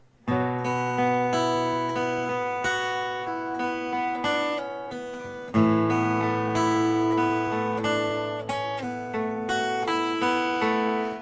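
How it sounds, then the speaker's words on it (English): Two guitar chords with open high strings, shaped by pull-offs, are picked out in a ringing arpeggiated pattern, a clear sustained phrase that restarts partway through and plays alone without voices. "So the two chords together sound like this."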